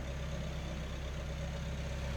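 A 2001 Mazda MX-5 Miata with its stock exhaust idles close by, a steady low, even hum with no revving and no voices over it.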